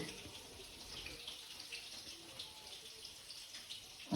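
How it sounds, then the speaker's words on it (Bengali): Water pours steadily into a cooking mixture for fried rice, a continuous close trickling and splashing that runs the whole time without talk. "এরপরে আমি একটু জল দেবো এতে, পরিমাণ মতো"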